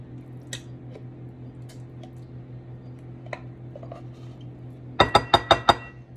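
A spatula works pumpkin puree out of a can, with a few faint scattered clicks, then a quick run of five sharp metallic knocks near the end, all over a low steady hum.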